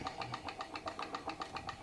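A small model Stirling engine runs steadily, close up, giving a quick regular beat of light mechanical ticks and knocks, about seven per second, alone.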